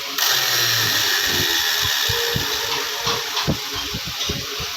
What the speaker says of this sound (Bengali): এখন মিক্সিটা ভালোভাবে চলছে দেখুন মিক্সিটা এখন ভালোভাবে চলছে